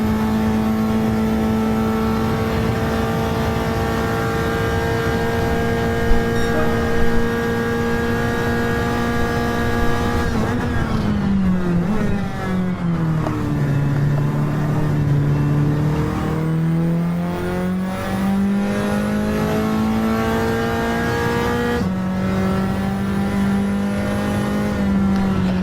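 A race car engine holds a loud, steady high drone, then drops in pitch and climbs again as it accelerates hard, alone with no talking, on the Deep Forest circuit.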